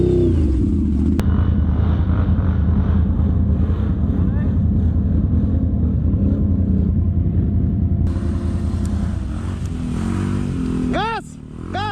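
An ATV engine roars steadily and loudly during a steep off-road hill climb, holding a constant drone with wind buffeting the microphone, while someone shouts encouragement over it.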